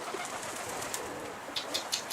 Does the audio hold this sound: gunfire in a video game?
no